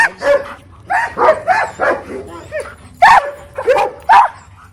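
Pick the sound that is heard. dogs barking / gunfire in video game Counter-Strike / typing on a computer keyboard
dogs barking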